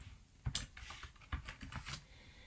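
Keystrokes on a computer keyboard while a place name is entered into a family-tree record, a quick run of close, crisp clicks with two sharper taps standing out.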